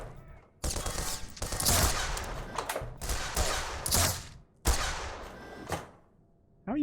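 Shotgun blasts and heavy gunfire in the video game Black Mesa, with several loud, booming shots separated by brief pauses and tails of echoing rumble between them.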